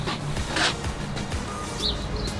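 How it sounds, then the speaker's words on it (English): A few short bird chirps in the distance over a quiet outdoor background, scattered and faint. "you can hear the birds chirping."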